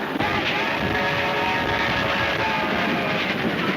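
A steam-era train runs steadily alongside a caboose in a 1934 adventure serial, a continuous heavy rumble with faint rail clatter, close and unbroken, with no voices.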